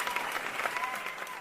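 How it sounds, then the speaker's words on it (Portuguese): Audience applause for a podcast guest, a short burst of soft, fairly distant clapping from a small crowd. "uma salva de palmas"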